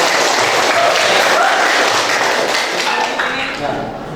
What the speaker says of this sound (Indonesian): kita kasih aplaus ya